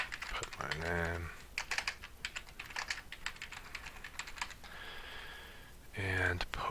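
Name being typed on a computer keyboard in short bursts of close, crisp key clicks with pauses between, a brief voice heard at the start and end.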